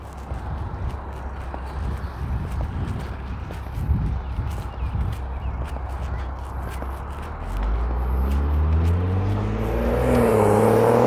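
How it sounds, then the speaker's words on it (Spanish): Cars slowing and rolling past at a pedestrian crossing in a Canadian neighbourhood, a steady low traffic rumble that swells as a nearer vehicle approaches and brakes toward the end, with light footsteps underneath. "aquí yo voy a pasar y los carros automáticamente se van a frenar"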